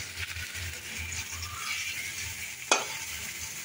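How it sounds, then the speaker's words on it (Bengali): Spice masala sizzling and being stirred in a hot pan for a cauliflower and potato curry, a steady close fry with a sharp utensil scrape near the end. "মশলাটা কষাতে শুরু করেছি,"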